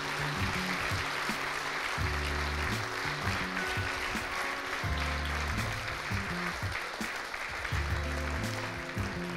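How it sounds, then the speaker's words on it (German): Sustained audience applause after talks at a Nacht der Ideen event on a campus, steady clapping over background music tones, no speech. "Jetzt schon mal bitte einen herzlichen Applaus für Uli,"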